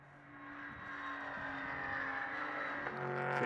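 Porsche race cars run at Mugello circuit during GT sprint qualifying, engine drone rising steadily in pitch and loudness as cars accelerate, a continuous distant whine with a brief gearshift dip near the end.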